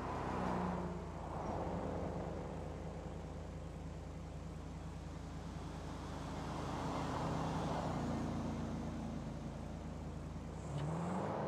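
A car drives in the video game GTA V, its engine holding a steady hum with rising and falling revs over road noise, close and continuous, no talking.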